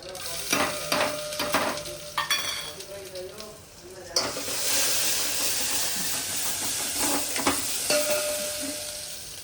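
Cumin, garlic and other spices crackle and sizzle in hot oil, with stirring clatter and a rising hiss as more goes into the pan.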